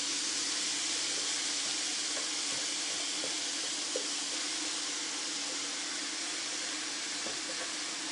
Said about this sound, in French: je vais y ajouter mes oignons et mes poivrons